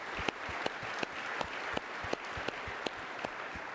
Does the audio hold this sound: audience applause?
yes